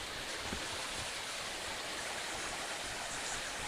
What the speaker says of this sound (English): A little waterfall, little cascadey thing